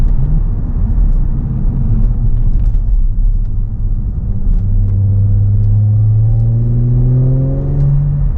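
Close, loud turbocharged Audi sports car engine droning and then revving up, its pitch climbing steadily toward the end over a heavy rumble.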